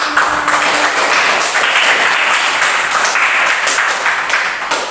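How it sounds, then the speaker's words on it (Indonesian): Young pupils in a kindergarten classroom clap together, a loud, close and continuous burst of hands that holds steady for several seconds and tapers slightly at the end. "Tepuk tangan dulu."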